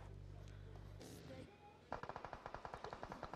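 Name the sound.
gunfire in the video game PUBG Mobile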